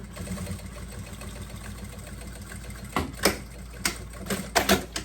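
A sewing machine stitches a double wine-bottle holder with its presser foot down: a steady low mechanical hum, then several short, louder bursts of rapid stitching near the end.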